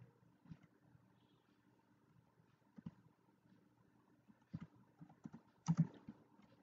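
Soft, scattered key taps on a computer keyboard while typing a document in Microsoft Word, faint and close, irregular clicks with a brief cluster near the end.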